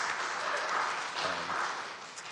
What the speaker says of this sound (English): So huge applause to all of them.